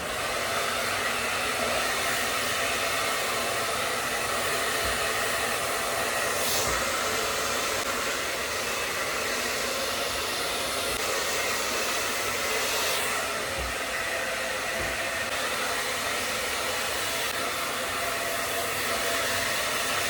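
A hair dryer blows steadily on a cooler setting while drying curly hair, a continuous broadband whoosh holding close and loud for the whole stretch with no talking.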